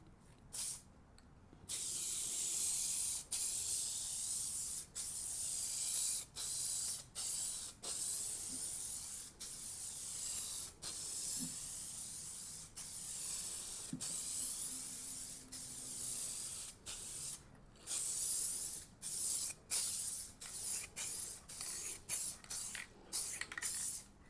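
Spray gun laying down a metallic base coat on a car panel in a light finishing coat, a steady close hiss in repeated bursts with short pauses between passes, no voices.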